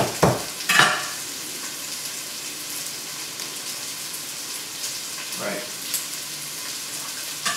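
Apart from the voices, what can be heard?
food sizzling in a frying pan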